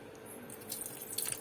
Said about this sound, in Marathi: पाणी ओतलं